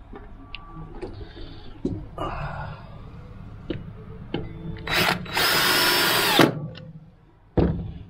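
A power drill drives 40 mm single-thread turbo silver number four screws into timber battening during a narrowboat fitout, with several short whirring bursts and one long loud run near the end, plus tool handling noises between.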